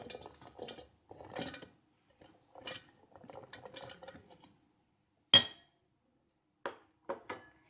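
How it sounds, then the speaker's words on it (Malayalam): Garlic cloves drop into a mixer grinder jar, making a few clicks and one sharp clink with short rattles after it, close by in a quiet kitchen, with no talking. "ഈ മിക്സിയുടെ ജാറിലേക്ക് നമുക്ക് വെളുത്തുള്ളി ഇട്ട് കൊടുക്കാം."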